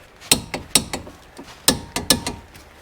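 A ratchet tightens the brake caliper bracket bolts on a 2007-2011 Toyota Camry, with sharp metallic clicks coming in short uneven bursts of two or three, close and distinct with no talk.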